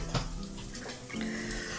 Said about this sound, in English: While the shower warms up